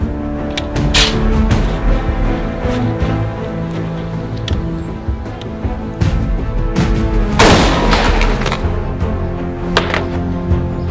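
A 7.62x51 rifle fires at bulletproof glass: sharp, loud gunshot cracks at close range, one dominant blast near the end amid other impacts and noise, no speech.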